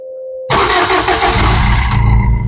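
A 2012 model car's engine is started close by, catching abruptly after a short moment of quiet and then settling into a loud, steady run with no talking.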